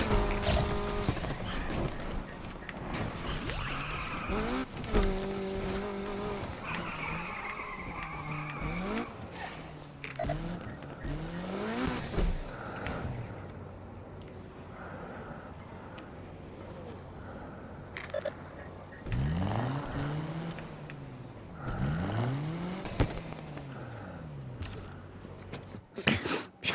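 A Ford Crown Victoria drives in Need for Speed Unbound, its engine revving up and down through gear changes with tire squeals and skids, over game music and effects.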